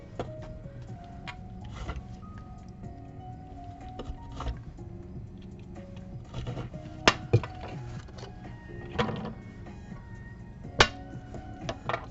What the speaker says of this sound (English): Sorry for the clinking.